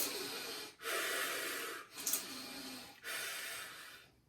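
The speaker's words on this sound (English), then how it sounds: "every time you flex the muscle, you breathe out" Forceful exhales during cable triceps extensions, about three long, hissy breaths out in a steady rhythm, close and fairly quiet with no talk.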